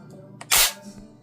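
A Beretta A300 Patrol semi-automatic shotgun's bolt slams closed in one sharp, loud metallic clack, with a few faint handling clicks just before and after.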